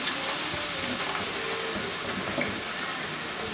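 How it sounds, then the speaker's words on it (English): Garlic and onions sauté in hot olive oil in a pot over a high gas flame, giving a steady, dense, hissing sizzle that stays close and even throughout with no voices. "that garlic and olive oil and onions is sauteing"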